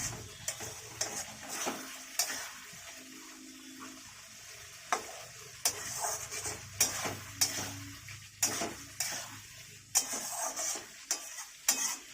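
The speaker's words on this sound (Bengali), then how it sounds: "মশলাটা একটু কষবে, কষা হয়নি এখন" Spice paste sautés quietly in a pan while cooking a katla fish head muri ghonto, a soft steady sizzle broken by repeated sharp scrapes and clacks of the stirring spoon against the pan, with no talk.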